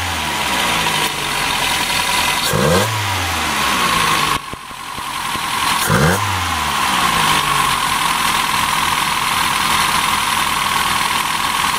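A repaired RT132 engine idles after warming up, a loud steady rumble with a clear tonal hum, interrupted by two short revs that rise and fall before settling back to an even idle.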